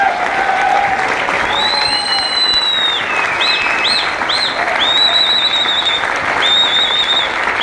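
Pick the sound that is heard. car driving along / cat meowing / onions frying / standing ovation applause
standing ovation applause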